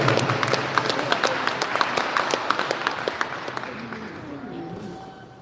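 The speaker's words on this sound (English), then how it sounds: "Can we give the round of applause?" An audience claps in a round of applause that thins out into a few distinct, rhythmic hand claps before fading, with a voice faintly present near the end.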